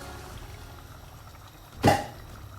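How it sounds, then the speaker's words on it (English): Water poured into a pot of mixed-bean soup (red, black, pink, yellow and brown beans) makes a single short splashing burst near the end, over a low, steady kitchen background. "We're gonna add some water to it."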